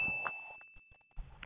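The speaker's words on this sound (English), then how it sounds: "ringing that notification bell" A notification bell ding sound effect at the end of a Lake District walking video: a few short bright chimes over a thin steady tone, fairly quiet.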